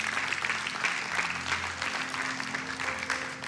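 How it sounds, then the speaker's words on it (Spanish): Steady, dense applause from a congregation fills a church during a sermon, holding at an even level with faint sustained tones beneath the clapping. "Denle un fuerte aplauso a Dios."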